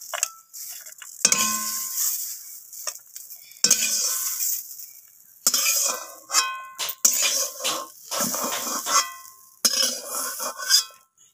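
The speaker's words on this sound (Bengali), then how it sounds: "সিমগুলোকেও আমি কড়াই থেকে তুলে নেব।" A metal spatula scrapes and clanks against a wok in repeated short strokes as fried flat beans are lifted out, loud and close with brief quiet gaps between scrapes.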